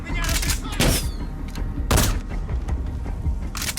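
Gunfire in the video game Metal Gear Solid V: The Phantom Pain, with bursts of loud shots and booms over a dense, busy game soundtrack.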